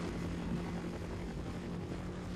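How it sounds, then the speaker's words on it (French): A helicopter in the Half-Life video game holds a steady, loud, droning rotor and engine roar, with no pauses, for the whole stretch. "L'hélico a décidé d'exploser les cactus."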